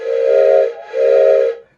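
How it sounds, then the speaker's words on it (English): Steam whistle on a model steam engine, a replacement Markland whistle, blowing two loud, steady shrill blasts of under a second each, separated by a brief dip, with breathy hiss around the tone. "This is a replacement Markland whistle."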